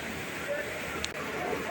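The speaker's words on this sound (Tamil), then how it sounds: "தண்ணீர் வேகம் பார்த்திங்கன்னா அதிகமாக தாங்க இருக்குது பாருங்கள் எப்படி கொட்டுது" A powerful waterfall near Courtallam pours with strong force, a dense, continuous roar of rushing water with a brief click partway through.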